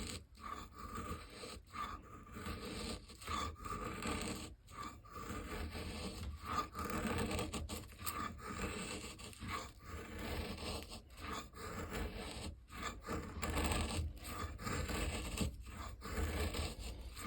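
Knife with a saber grind carving fine curls from wood; repeated rasping, scraping strokes close up, each stroke separated by short pauses in an uneven rhythm, with no talking.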